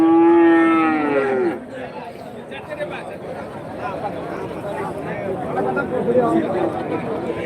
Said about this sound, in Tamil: அந்த சைடு போனங்களா பால் மாடுங்க வந்து நிறைய இருக்கும்